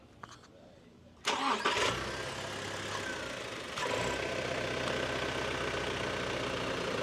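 A 4th-generation Toyota Tacoma TRD Off Road V6 cranks and fires up abruptly, then settles into a steady, fairly close idle that swells slightly a few seconds later.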